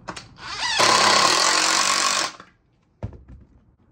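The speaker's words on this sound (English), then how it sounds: "I'm going to take these last 2 screws and just screw that last diagonal piece in" A power drill drives a screw into a wooden diagonal brace of a DIY bench: one loud, close whirring burst of about a second and a half, then a short clack and quiet handling sounds.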